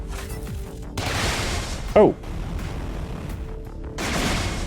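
A spaceship auto cannon fires in the Everspace 2 space combat game, in rough sustained bursts of rapid shots with a short gap between, while a player exclaims over it.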